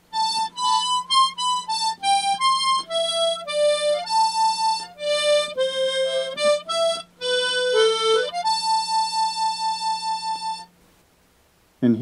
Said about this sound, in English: the whole first part of the B is going to sound like this.